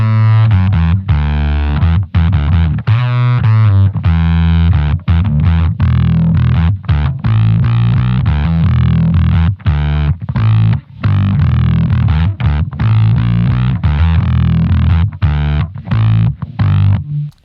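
A loud electric guitar through a LOE Sounds Super Fuzz pedal plays choppy riffs, heavily distorted with deep low end, with no talking.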